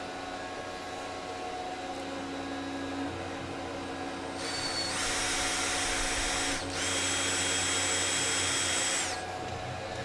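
A hand drill tapping a hole in a machined part whirs steadily at low volume, then two louder, brighter bursts of higher-speed running follow, close by in a quiet shop.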